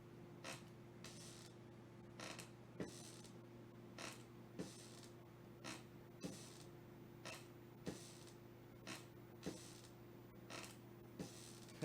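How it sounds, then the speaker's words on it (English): A squeaky chair creaks in a steady run of short, sharp squeaks, about one every second, close by over a constant low electrical hum, with no talking. "I like my squeaky chair."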